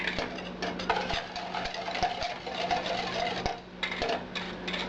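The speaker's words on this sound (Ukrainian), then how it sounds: "Молоко закипіло, я його виключаю і ввожу туди потихеньку жовтки і швиденько мішаю" A spoon clinks and scrapes against a pot as egg yolks are quickly stirred into just-boiled milk for a berry ice cream base, producing a steady run of close metallic taps and swirling.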